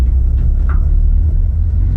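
A budget drift car rolls off with its freshly repaired differential, a loud, close, steady low engine and drivetrain rumble filling the short stretch with no other sounds.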